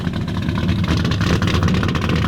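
Custom American muscle car at the Vallåkraträffen 2022 car show, its engine idling with a steady, deep, loud rumble close by throughout.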